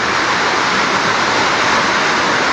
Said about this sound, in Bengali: প্রচুর বৃষ্টি হচ্ছে মুষলধারে বৃষ্টি